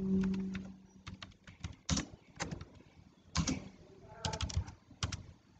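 Keys on a computer keyboard tapped in short irregular bursts while a name is entered for a web authoring exercise, close and moderately loud with brief pauses between clusters.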